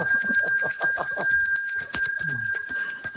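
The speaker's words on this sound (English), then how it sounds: "I'll wait for your bell." A bell rung in a live online reading and healing session rings with sustained high metallic tones, bright and steady throughout the short stretch, with faint voice-like murmurs underneath.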